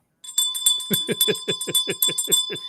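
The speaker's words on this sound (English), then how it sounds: "He's ringing the bell." A bell rung rapidly by hand in David Lynch's Dune, about ten bright, ringing strokes in an even, quick rhythm, each clang leaving a sustained metallic tone beneath the next.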